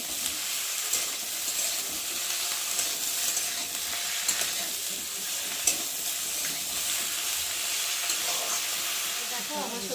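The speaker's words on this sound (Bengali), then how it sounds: "সবজিটাকে একটু ভালো করে নাড়াচাড়া দেবো একটু ভালো করে ভেজে নেবো" Vegetables including aubergine and chillies frying in oil as they are stirred in a pan, a continuous bright hiss of sizzling with occasional soft scrapes, steady and close, no talking.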